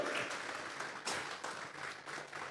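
A church congregation applauds with dense, sustained clapping during a service, steady and somewhat distant, with a few swells.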